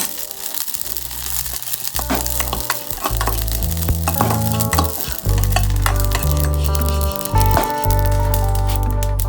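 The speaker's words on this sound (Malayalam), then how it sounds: "ജീരകം ഇതുപോലെ നന്നായിട്ട് വറുത്തെടുക്കുക." Cumin seeds dry-roasting in a pan crackle and sizzle steadily while a utensil stirs and scrapes, close and continuous, with no voices.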